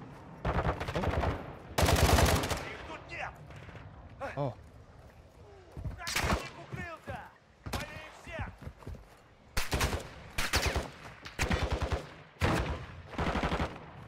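Sniper rifle shots and bursts of gunfire ring out repeatedly during a match of the video game DMZ, sharp cracks recurring every second or two among players talking over the action.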